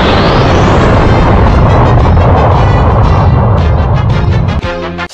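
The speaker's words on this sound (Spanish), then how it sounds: "provocando un choque de poderes y como resultado una gran explosión" Energy attacks clash in a Dragon Ball cartoon, producing a huge, roaring explosion that fills the soundscape for several seconds before cutting off into a brief tonal ring.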